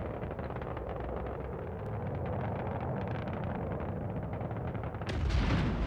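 A torpedo strikes a rock in a naval combat game, landing as a sudden loud, harsh explosive burst near the end of a dense, continuous rumbling battle din.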